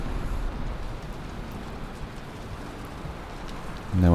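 Steady rain falls in the Valheim game world on a spring day, a dense, even hiss that holds throughout, with a brief lower rumble or thump rising at the very end.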